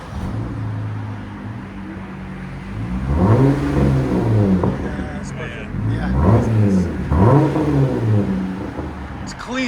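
Engine of a 2023 Jeep Gladiator with a 3.6L V6 and Dynomax Race Bullet exhaust with resonator delete, starting and revving in a few rising and falling bursts close by, with people talking over it.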